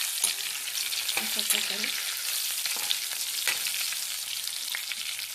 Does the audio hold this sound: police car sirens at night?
no